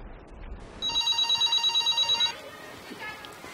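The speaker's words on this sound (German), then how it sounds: "Oh Lea, gut, dass du anrufst." A telephone rings in quick repeated electronic trills for about a second and a half in a quiet indoor room, then falls silent.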